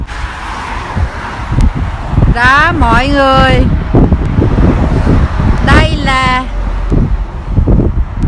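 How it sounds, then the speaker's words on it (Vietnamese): Strong wind buffets the microphone on a bridge at the German–Dutch border, a steady loud roar with passing road noise, while people talk over it throughout. "Vô gió ầm ầm á."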